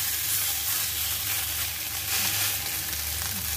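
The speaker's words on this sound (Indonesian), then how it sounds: "Goreng menggunakan api sedang, cenderung ke kecil ya," Turnip cake (lopak) fries in a pan over medium-low heat, giving a steady, dense sizzle and crackle of hot oil that continues unbroken and close up, with no voices.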